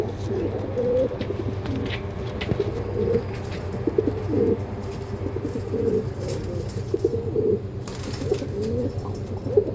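Andhra breed pigeons coo steadily and continuously at close range, a breeding pair with a small female and a larger male, with faint background noise and no talking.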